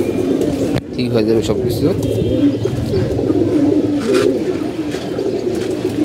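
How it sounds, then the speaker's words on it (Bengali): Domestic pigeons, including female birds, cooing in a loft with soft, repeated low coos running throughout, while someone speaks over them close by. "এদিকে আমাদের মাদি কবুতরগুলো"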